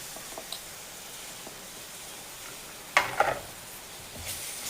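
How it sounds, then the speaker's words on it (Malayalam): Ground tomato paste drops into spices frying in a pan for a Kerala-style fish curry, giving a brief wet sizzling burst over a faint, steady background hiss. "അതിലേക്ക് അരച്ച് വെച്ചിരിക്കുന്ന തക്കാളി പേസ്റ്റ് ചേർക്കാം"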